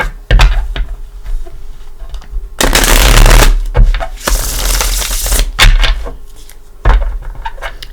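A Gilded Tarot deck is shuffled by hand in loud, crackling bursts of riffling cards, a few separate shuffles with short pauses between them.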